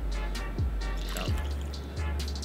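Liquid poured from a cocktail shaker in a one-handed bartending flair move makes a few distinct drips and plops, three splashy drops spaced about evenly over a couple of seconds, close up against a low background hum.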